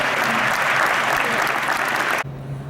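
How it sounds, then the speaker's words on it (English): Audience applause at a foundation event, a dense, steady wash of many hands clapping that cuts off abruptly near the end, leaving a low hum. "Have a round of applause."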